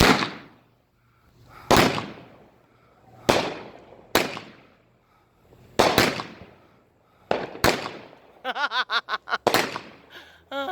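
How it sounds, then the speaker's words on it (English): Fourth of July backyard fireworks going off in a series of sharp loud bangs, about eight separated by short pauses, ending in a rapid crackling burst near the listener. "Firework time, dude."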